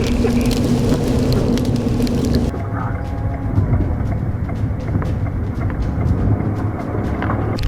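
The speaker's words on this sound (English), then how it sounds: "we were hit by dime-sized hail, forcing us back the way we came" Dime-sized hail pelts a storm chasers' car during a 2017 storm chase in Hancock, drumming as a steady dense patter of hard, close clicks on the roof and glass.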